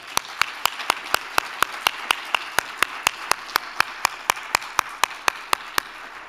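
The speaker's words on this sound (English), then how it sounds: "Let's have a large and warm round of applause for Dr." Clapping for an award recipient at a university faculty awards presentation, heard as sharp, evenly spaced single claps in a brisk steady rhythm over a faint room hiss, sounding like one nearby pair of hands rather than a full crowd.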